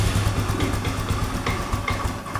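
A Honda Scoopy FI fuel-injected scooter idles with a steady low putter and an uneven rhythm, as an idle that dies when the throttle is released might sound. It runs close and alone, with no talk over it.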